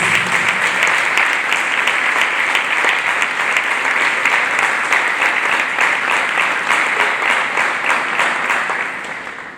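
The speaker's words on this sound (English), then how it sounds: "Clap hands for Jesus." A church congregation claps hands together, steady, dense applause that carries on throughout before fading slightly at the end.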